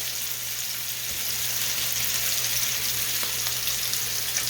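Onions sauté in butter in a pan, giving a steady, close sizzling hiss throughout with small crackles and faint stirring, no voices.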